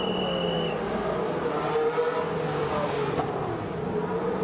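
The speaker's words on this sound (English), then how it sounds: "Sebastian Vettel next across the line" A Formula 1 car on track during qualifying at the Austrian Grand Prix, its engine a steady loud drone with a changing pitch as it runs past, with no speech.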